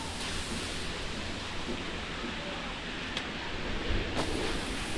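Steady, even hiss of rain fills the whole clip, with a couple of faint crackles and no voices.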